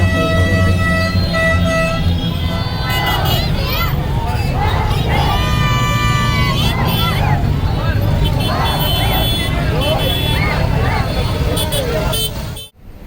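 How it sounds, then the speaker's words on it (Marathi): A noisy street crowd in Pune cheers and shouts celebrating a Champions Trophy win while car horns toot repeatedly, loud and continuous, with traffic rumbling underneath until it cuts off abruptly. "इकडं जल्लोष चालू मोठ्या आवाजात बघू"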